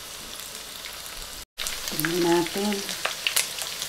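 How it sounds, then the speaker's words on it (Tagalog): Marinated pork tenderloin sizzles steadily in hot oil, with a brief dropout and a short spoken phrase in the middle over the crackle. "Ayan, piniprito na natin."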